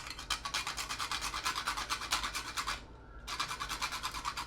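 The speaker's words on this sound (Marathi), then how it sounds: "हे जायफळ आहे ते मी थोडंसं किसून घालते ह्याच्यात" Whole nutmeg scraped over a grater while making jeeravan masala, a fast, steady rhythm of raspy strokes up close, pausing briefly before the scraping resumes.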